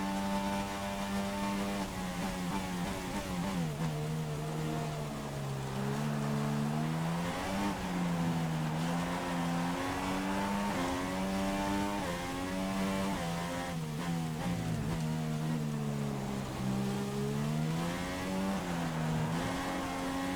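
Race car engine in the F1 2016 video game during a Russian Grand Prix qualifying lap, a steady, loud whine that rises and falls continuously through gear shifts and corners for the whole stretch.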